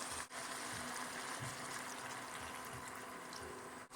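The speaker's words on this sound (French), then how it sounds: "On va rajouter un peu d'eau aussi" Water is poured into a pot of vegetable curry with potatoes and green beans, a steady close gushing splash lasting several seconds, alone without talk.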